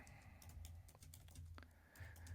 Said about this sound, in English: Now, while I'm typing, think about it.